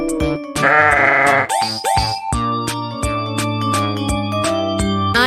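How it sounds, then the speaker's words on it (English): Several sheep bleats, loud and close, each a wavering nasal cry repeated in quick succession over steady farmyard backing music, with no talking. "I am sheep."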